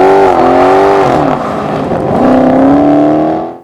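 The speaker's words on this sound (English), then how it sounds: "The power, sound and torque are reminiscent of the muscle cars of old." A muscle car engine revs loudly and steadily, its pitch dipping and then climbing again in a sustained roar close to the microphone, with no voices over it.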